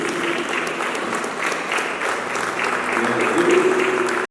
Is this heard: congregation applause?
yes